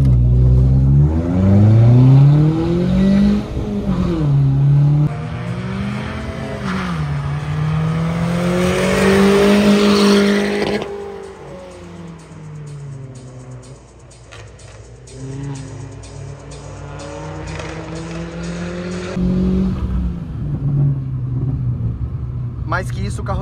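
Race car engine revving and accelerating hard on a track day circuit, loud and close with the pitch rising and falling through gear changes, while a voice talks over the engine throughout.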